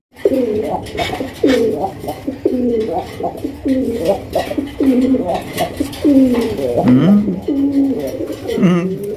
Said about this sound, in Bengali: বিশাল সাইজে এক জোড়া কালারিং রাসগোল্লা কবুতর